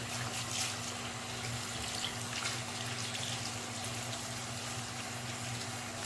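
Steady running hot water from a tap, a continuous soft hiss with a faint low hum underneath, no voices.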